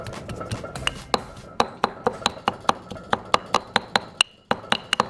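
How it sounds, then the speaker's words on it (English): Ginger and garlic are pounded in a mortar with a pestle into paste: a fast run of sharp, close thuds, about two to three per second, loud and alone. "we're just gonna smash this into a ginger garlic paste"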